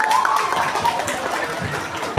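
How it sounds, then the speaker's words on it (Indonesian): A crowd applauding for class A2 at a school event, a dense patter of clapping with faint crowd murmur, close and fairly loud throughout. "Kita kasih tepuk tangan meriah dulu untuk kelas A2"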